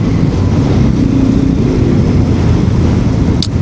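A bus engine rumbles steadily and loudly from close by as the vehicle turns, a dense low drone with no speech.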